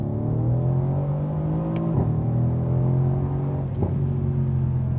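A 2015 Mercedes-AMG C63S (W205) with sport exhaust accelerates hard, its deep engine note climbing steadily through the revs, broken by two brief gearshift dips before pulling on loudly.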